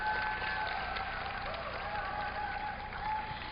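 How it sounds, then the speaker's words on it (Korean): Audience applause at a social welfare workshop held during a world Buddhist women's conference, a steady, moderately distant wash of clapping from a seated crowd that continues evenly throughout without pause. "격려의 박수"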